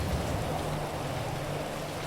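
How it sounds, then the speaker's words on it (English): Rain from a weather effect near a modern wooden house in a GTA 5 mod, a soft, even hiss of falling drops that holds steady and fairly quiet throughout. "As soon as you come close to the house, it starts to rain"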